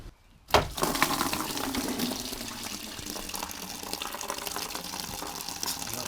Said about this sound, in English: to do that we obviously have to disconnect several pipes and drain the coolant